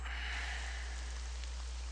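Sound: rain falling in the video game Devil Hunter: Seeker of Power

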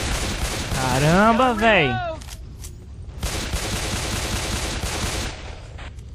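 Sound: gunfire in the video game Left 4 Dead 2

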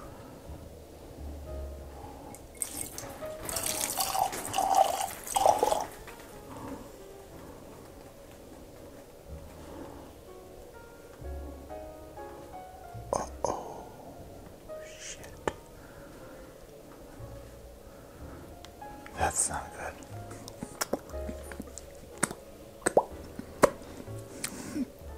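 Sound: pouring Redwood Empire Lost Monarch whiskey, long pour

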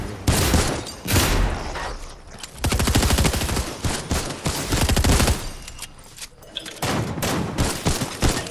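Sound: gunfire in a shooter video game

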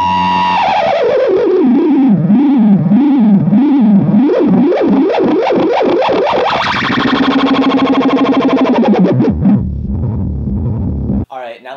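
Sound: Echoplex tape delay oscillation runaway with overdrive

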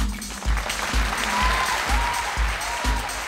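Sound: studio audience applause

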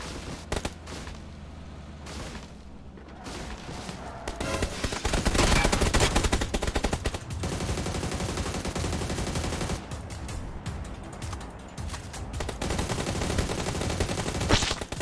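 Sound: gunfire in video game PUBG New State

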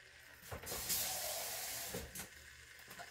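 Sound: food starting to sauté in an Instant Pot

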